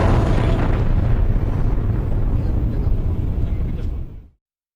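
A blast in the Defence area captured on CCTV: a sustained, loud, rumbling roar of low-frequency noise that holds for about four seconds, then cuts off abruptly.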